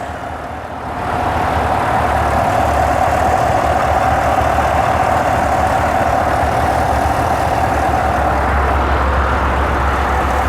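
A 2018 GMC Yukon Denali's 6.2 liter V8 settles into a steady, loud, close idle after a brief quieter start, a constant low rumble with an even hum and no voices.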